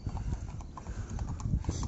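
Horses' hooves clip-clop on pavement in a town, an irregular run of close, hollow knocks over about two seconds with no talking.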